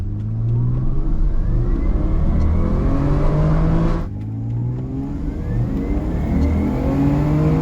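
A 30-year-old twin turbo Lexus coupe imported from Japan pulls away from a stoplight at full throttle with overdrive off, its engine loud and close, revving and whirring through rising gears with a brief dip midway.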